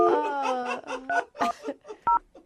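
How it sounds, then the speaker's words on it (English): A telephone number is dialed on a keypad, producing a quick series of short electronic touch-tone beeps in an uneven rhythm, fairly close and clear, with a brighter double tone near the end. "I just dialed the phone number."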